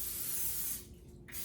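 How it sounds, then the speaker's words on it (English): Non-stick cooking spray hissing onto a waffle iron, one continuous close spray burst lasting under a second before it cuts off, with no talk. "I'm gonna spray my waffle iron"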